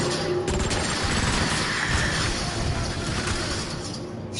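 Rapid gunfire from a weapon in Transformers Rise of the Dark Spark, a loud dense barrage of shots with crackling impacts running continuously through the scene.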